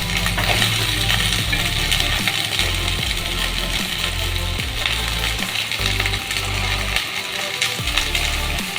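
Sliced okra tipped into hot oil in a pan for a lady finger fry, a loud, dense crackling sizzle with clattering pieces, close and continuous throughout.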